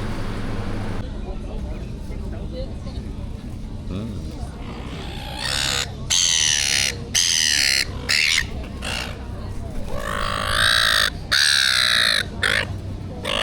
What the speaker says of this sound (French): Regardez comment ils sont fous les oiseaux ici.